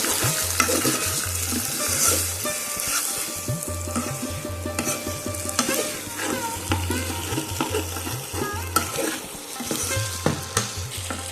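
Spice masala frying in released oil in a pan for jackfruit kalia cooked with goat fat, a continuous dense sizzle under repeated stirring and scraping, close and fairly loud, with no voices.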